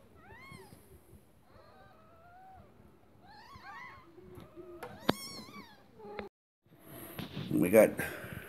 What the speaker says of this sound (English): kittens that are just a couple hours old